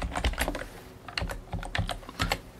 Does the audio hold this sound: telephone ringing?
no